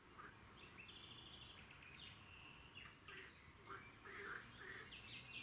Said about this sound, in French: C'est un oiseau que vous entendez là.